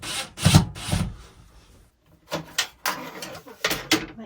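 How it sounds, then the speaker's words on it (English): Steel wool rubbed over an aluminum trim piece from behind a camper sink, a few close, rough scrubbing strokes in short bursts separated by a brief pause. "This is the trim piece that goes behind the sink. Hit it with some steel wool."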